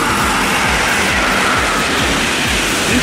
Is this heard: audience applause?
no